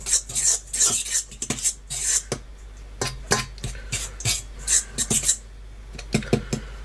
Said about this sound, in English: I'm going to mix that around a bit so the salt doesn't get hit by the yeast